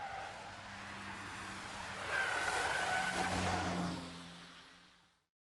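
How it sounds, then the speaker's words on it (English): A car on standard stock suspension runs a wet slalom course, its engine droning steadily while tires squeal in drawn-out bursts that swell louder mid-run before fading away; no one speaks. "Look and listen to how the vehicle handles."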